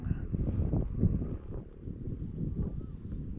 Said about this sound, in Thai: ลมมาเริ่มตีลำบากหน่อย